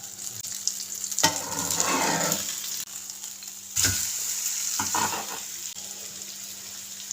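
Fish frying on a tawa in a little oil, sizzling steadily with a few scraping flips and bursts of louder crackle as the pieces are turned.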